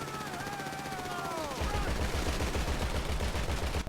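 A sustained burst of gunfire aimed at car tires in GTA V, a fast steady rattle of shots that starts partway through and continues loudly, over engine and road noise.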